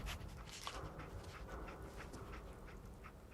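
Dogmeat, the companion dog in the video game Fallout 4, pants steadily and close up in rapid breathy bursts for a few seconds, with no talking over it.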